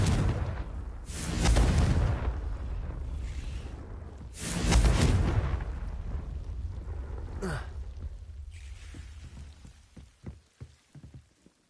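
A Confringo blasting spell cast in Hogwarts Legacy, heard as two loud, booming bursts a few seconds apart, each with a rushing tail, followed by fainter scattered clicks and movement.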